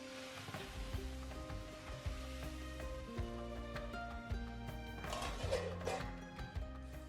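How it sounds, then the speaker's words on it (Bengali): Pitha frying in a pan, soft sizzling under a steady tonal hum from kitchen background music or appliance, with a brief burst of louder crackle midway. "তো এরকম করে আমি 2-3টা ভেজে নিলাম"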